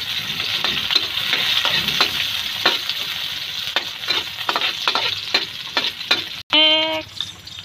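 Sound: sautéing onion and celery for pancit bihon

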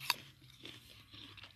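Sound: biting into an unripe organic apple

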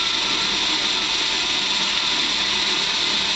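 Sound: drill press milling a T-slot with a mill cutter

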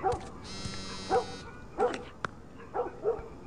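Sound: dog barking outside in video game The Last of Us

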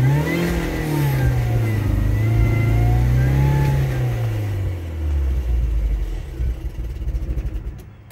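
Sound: car engine revving then idling

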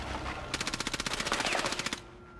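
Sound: MP7 gunfire in Rainbow Six Siege video game

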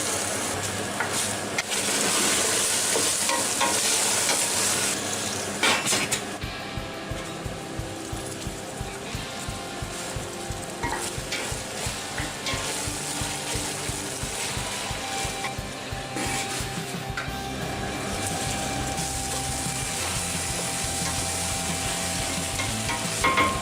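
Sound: green beans sautéing with onion and tomato paste

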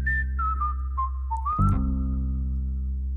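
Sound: whistling in the song Tasty

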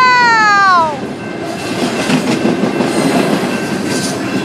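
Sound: train on Alpine railway

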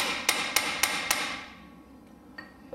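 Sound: hammer striking chisel on wheel bearing nut

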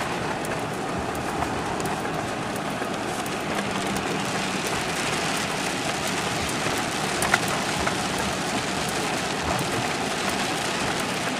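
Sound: light rain falling

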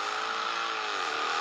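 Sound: Mercedes car accelerating from standstill

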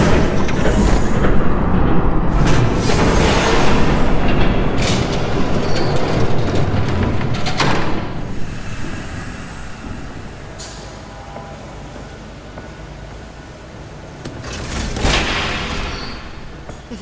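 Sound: train passing by in video game Batman Telltale Series

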